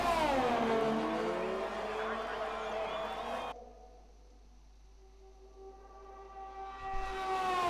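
A Formula 2 race car engine runs flat out toward the finish line in a racing video game at the Azerbaijan round, a loud, high, tonal whine that cuts sharply to a quieter drone midway and then swells back up.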